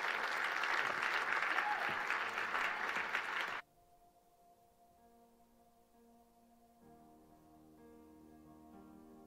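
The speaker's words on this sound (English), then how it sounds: "Come on, give the Lord a good hand clap today." A church congregation claps hands for several seconds, a loud, dense burst of applause that stops abruptly, leaving quiet organ or keyboard tones sustaining in the background.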